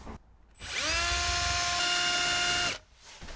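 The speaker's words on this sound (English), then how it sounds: "we are going to remove this two 10mm bolts" A power driver runs up and spins out a 10mm bolt in a car interior during a stereo install, a loud, close whine rising sharply, holding steady for about two seconds and then stopping abruptly.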